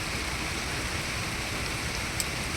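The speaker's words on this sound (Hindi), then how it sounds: "ये देखो क्या बादल, बारिश झमाझम, है ना।" Heavy monsoon rain pours down in a steady, dense hiss, loud and close, with no voices and a faint brief tone near the end.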